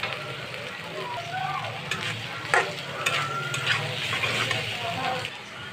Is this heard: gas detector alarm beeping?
no